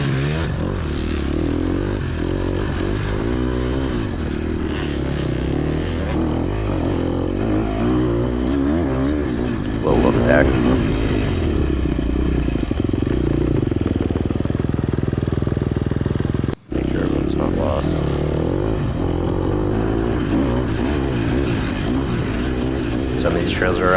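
A KTM SX-F dirt bike works along wooded singletrack, its engine droning and revving loud and close throughout, briefly cutting out once, while a rider talks continuously over it.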